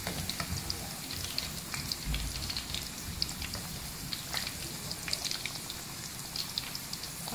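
Chicken nuggets fry in a pan over a medium flame, a constant close crackling sizzle with fine popping spatters running evenly throughout, with no one speaking.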